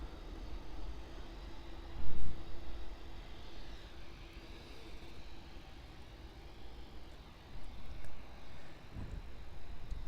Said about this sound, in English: the Cathay Pacific 747-8 is now lining up on runway 9er